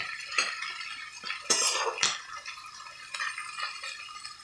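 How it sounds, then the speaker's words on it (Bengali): Cooked, separated rice tipped into a pan of fried vegetables for a fried-rice style dish, heard as soft scraping and a few light clinks of a utensil against the pan, quiet and sparse. "আমি এবার ভাতটাকে ঢেলে দেবো এর মধ্যে।"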